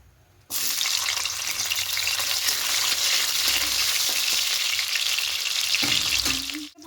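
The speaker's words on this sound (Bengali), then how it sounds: "প্রথমে করলাগুলোকে ভেজে নেব।" Sliced bitter gourd sizzles in hot mustard oil, a bright, steady, close hiss that starts abruptly and holds for several seconds, with a few light utensil clinks near the end.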